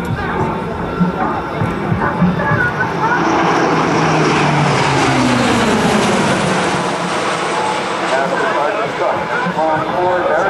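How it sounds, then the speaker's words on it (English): A Lockheed C-130J-30 Hercules four-engine turboprop makes a high-speed pass at over 250 miles an hour at an air show open house, a loud swelling propeller and engine roar that sweeps past and fades, with announcer speech over it. "Now coming by at a high-speed pass, get your cameras ready as they come by."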